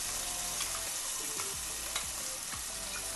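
Ginger, onion, garlic, cashew and green chili paste hits hot oil in a pan for a prawn and paneer masala, giving a steady close sizzle with a few soft scraping stirs and no talking.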